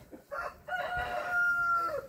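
Chickens cluck and call nearby in a frosty yard on a cold spring morning, a rooster-like crow drawn out over a couple of seconds, with faint outdoor background noise.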